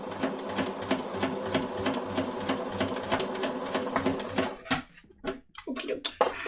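A sewing machine runs steadily while hemming a shirt, its rapid rhythmic needle clatter continuous for several seconds, then breaking into short stop-start bursts near the end.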